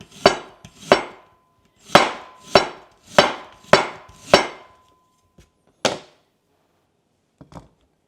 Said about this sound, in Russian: Лук мы режем полукольцами.